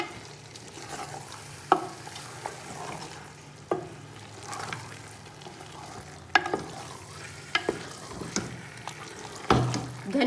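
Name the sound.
stirring and frying mutton with cauliflower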